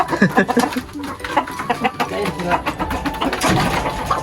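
Gamecocks kept for cockfighting cluck and call in short bursts amid busy background noise, with people talking nearby.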